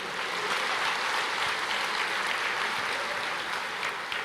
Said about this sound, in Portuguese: pode aplaudir, aplauda o Senhor.